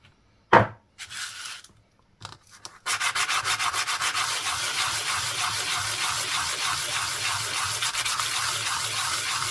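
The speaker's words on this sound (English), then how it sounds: "A bit of sandpaper. Just cleans up the edge again where you punch through." Sandpaper worked by hand around the edge of a 1967 UK half penny coin ring, a few short scuffs first, then steady rapid back-and-forth rasping strokes, close and even.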